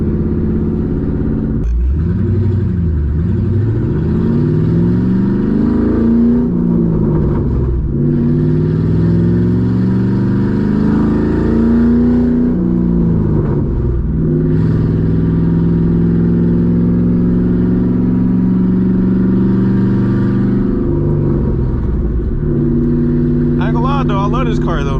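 A loud straight-piped 2007 Mustang GT with a three-valve engine is driven hard, its exhaust roaring close up and climbing through repeated rev cycles with shifts, ending in crackling pops.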